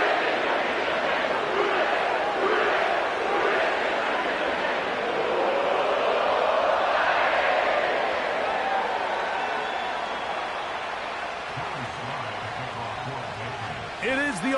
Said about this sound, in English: sellout crowd has arrived at Paycor Stadium in Cincinnati